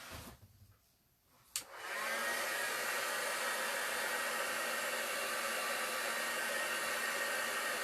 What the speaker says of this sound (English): I'm just going to go to one side a little bit now and dry this off with my heat tool